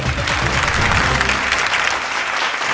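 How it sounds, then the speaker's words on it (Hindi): A studio audience at a Bhojpuri singing competition show bursts into loud, dense applause that fills the short moment, with no voices over it. "एगो जोरदार ताली"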